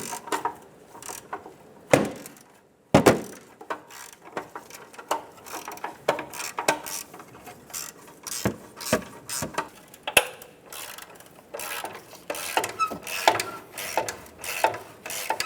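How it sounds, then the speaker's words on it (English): Socket wrench loosening 10mm heat shield bolts on a 2000-2006 Toyota Tundra exhaust manifold, giving a run of close ratcheting clicks and metallic rattles in irregular bursts, with a few sharper knocks. "There's going to be 4 10mm bolts for the heat shield. Using a socket, we're going to remove those now."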